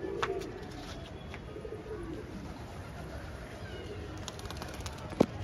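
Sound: pigeons

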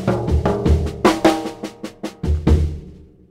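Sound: drum phrase with rubato sixteenth notes on toms and snare

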